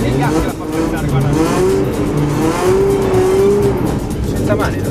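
BMW drifting on a track: engine revving with rising and falling tone and tires squealing, loud and continuous, with people talking over it.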